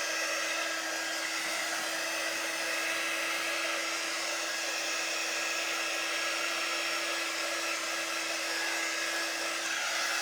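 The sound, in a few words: hair dryer drying a freshly made sign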